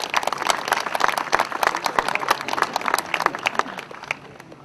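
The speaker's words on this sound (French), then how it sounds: "un grand applaudissement pour les Réunions" An audience at the Mondial Tana 2011 event in Antananarivo applauds, a dense burst of many clapping hands that rises and then tapers off, fairly close and loud.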